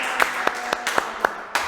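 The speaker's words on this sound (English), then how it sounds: "Give yourselves a clap." Students at a marimba lesson clap in a quick run of about six sharp, evenly spaced claps, close and fairly loud, with no voices over them.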